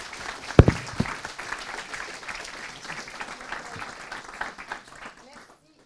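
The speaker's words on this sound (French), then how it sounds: "Je pense qu'on peut applaudir" Audience applause after a personal testimony at the inauguration of a digital transitions demonstrator, with a sharp clap burst early, then scattered clapping under ongoing speech that fades out.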